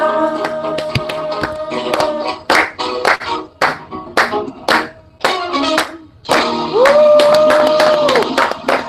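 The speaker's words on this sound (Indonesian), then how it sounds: "Kita berikan tepuk tangan Tuhan" A church congregation claps in rhythm during a Sunday worship service at GBI Grace Full, loud sharp hand claps sounding together with singing voices and a sustained sung note near the end.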